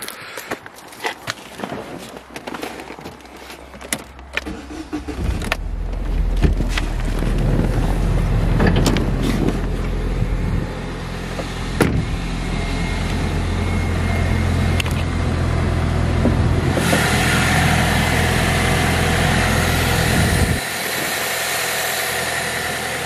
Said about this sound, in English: Let's get the engine running.